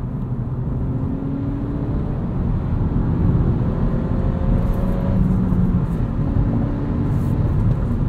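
Engine of a 2022 Honda Civic Sport Touring manual hatchback, steady low drone with a faint whir as revs fall off the throttle with the clutch in, heard from inside the cabin without talk.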